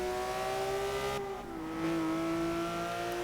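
A stock Porsche race car engine in the Forza 6 racing game holds a steady, sustained drone with one brief shift in pitch partway through, steady in level with no talk over it.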